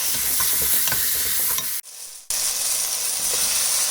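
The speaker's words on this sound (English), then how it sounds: "keep cooking until the tomatoes are nice and pulpy." Tomatoes with a pinch of turmeric powder cook in a pan for prawn biryani, giving a steady close sizzle with stirring scrapes, broken by a short silent pause before the frying resumes.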